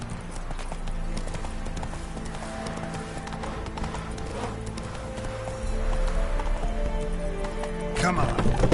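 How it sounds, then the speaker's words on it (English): Rhythmic clip-clop of a horse galloping in the video game Witcher 3, hooves drumming steadily at a run over ambient game sound, with a faint whinny and a louder surge near the end. "Run, Roach."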